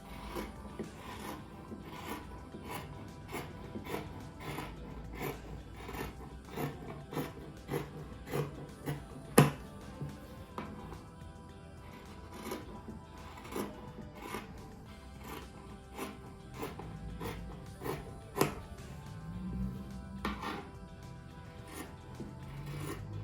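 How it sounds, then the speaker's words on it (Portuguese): Scissors cut along drawn lines on a paper or fabric pattern, producing a long run of close, steady snipping and rasping strokes with occasional sharper clicks. "E agora eu vou cortar onde eu risquei."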